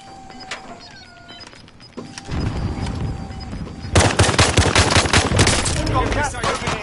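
Gunfire in the video game Warzone. After quieter game sounds, bursts of loud rapid automatic fire start and then grow into dense, continuous shooting with no clear voices.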